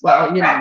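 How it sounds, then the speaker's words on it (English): Dogs barking indoors, one brief sharp bark or yelp that overlaps with a person talking. "Sorry about the dogs there."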